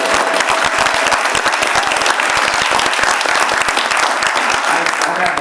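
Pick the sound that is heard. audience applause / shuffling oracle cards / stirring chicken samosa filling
audience applause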